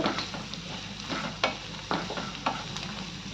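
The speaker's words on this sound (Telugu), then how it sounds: "కొద్దిగా పసుపు వేసుకుందాం అలాగే కర్రీకి సరిపడా ఉప్పు వేసుకోవాలి వేసుకొని ఇవి కొంచెం కలిపి" Ridge gourd and chana dal curry with turmeric and salt being stirred in a pan, a steady sizzling hiss under repeated spoon scrapes and clinks against the metal; no talk.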